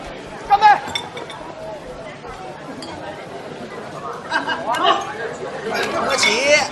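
Glasses clink during a toast at a lively dinner gathering, a few bright chinks over busy group chatter and cheering.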